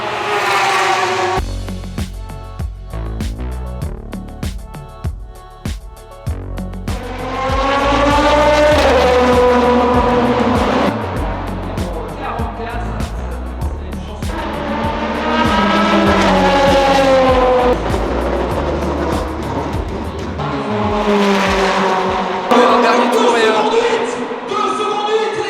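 LMP2 prototype race cars at the 24 Hours of Le Mans, engines roaring loudly as they pass close by in rising and falling waves, one after another, with no talk over them.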